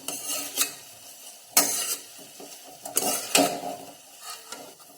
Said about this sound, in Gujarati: છીણને મેં ઘીમાં આ રીતે શેકી લીધી છે।